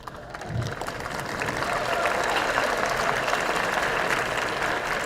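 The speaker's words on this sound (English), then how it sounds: "we will give a round of applause at the end" Steady applause from a crowd at a faculty and staff lunch, rising quickly after a brief start and holding at an even, full level throughout.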